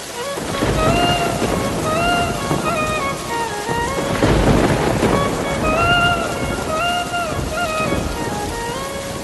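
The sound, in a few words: heavy rain and thunderstorm sound effect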